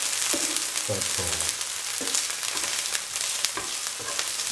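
Ginger, garlic and onions fry with salt in a pan for spicy okra masala rice, giving a steady close sizzle with a few brief tonal clinks early on and a single word spoken briefly.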